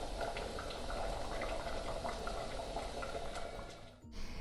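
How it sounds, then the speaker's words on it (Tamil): Mutton kulambu curry with drumsticks simmers in a pot, a soft continuous bubbling and hiss of boiling liquid heard close and fairly quiet, ending with a brief dip and clatter. "குழம்பு கொதிக்குது நல்லா"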